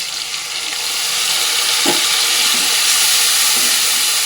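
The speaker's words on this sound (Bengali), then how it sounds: "টমেটোটা একটু ভালো করে ভাজা ভাজা করে নেবো" Tomato sizzles steadily in a hot pan, a loud broad hiss with brief stirring scrapes and no talk.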